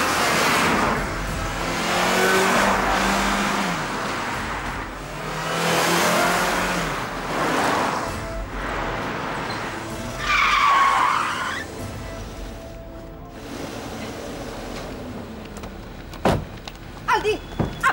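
A car driven very fast sweeps past in repeated waves of engine roar and revving, with tyre screeches midway and a few thumps near the end, loud and close.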